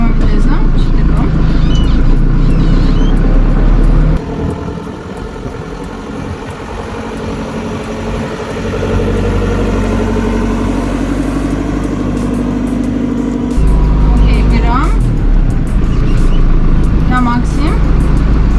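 A JCB 3CX backhoe loader's diesel engine runs loud and close, idling and then shifting tone as it is put in gear, with a steady heavy rumble throughout and some brief clunks.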